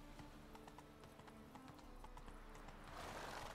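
Horse hooves clip-clop at a steady walking rhythm in the video game The Witcher 3, quiet and close, with a brief whinny and a rising rush of sound near the end.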